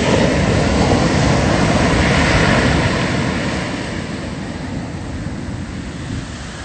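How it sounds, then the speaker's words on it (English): Big surf over ten feet breaking right next to the shore in Hawaii: a loud continuous roar of crashing waves with heavy wind buffeting, easing slightly toward the end. "it's like 10 plus foot waves breaking right next to the shore"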